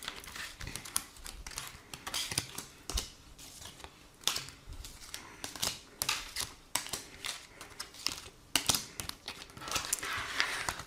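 Cards being shuffled and drawn for a daily card reading: soft papery riffles, slaps and flicks up close, coming in irregular bursts across the whole stretch, with no voices.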